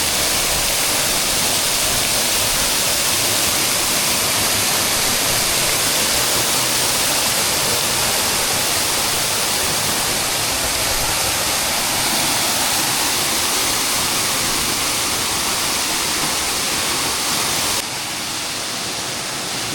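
A river pours down over sandstone arches in Red River Gorge, Kentucky, making a loud, dense, unbroken roar of falling water close by that fills the whole span, with no talking.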